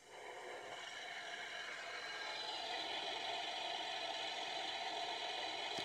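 Diesel engine start sound from the electronic sound unit of a 1/16 scale Leopard 2A6 main battle tank model, a steady faint mechanical rumble and rattle that rises at the start and holds evenly, with no talk.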